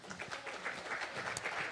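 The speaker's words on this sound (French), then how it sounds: "vous pouvez l'applaudir pour l'encourager pendant qu'elle descend les escaliers" An audience claps in a steady, even patter of applause at a talk, faint and somewhat distant, with no voices.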